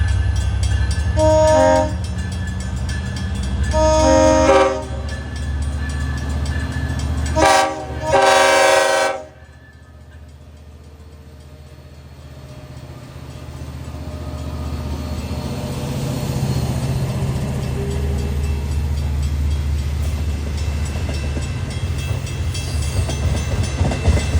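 An eastbound Long Island Rail Road train to Montauk sounds its cab car horn in several loud blasts, then rumbles past with a steady, rising roar of rolling wheels that lingers into the distance.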